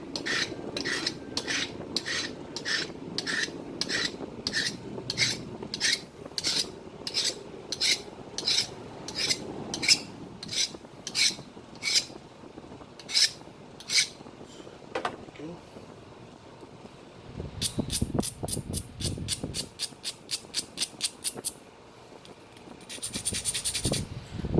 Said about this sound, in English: I'm going to sharpen my pressure flaker.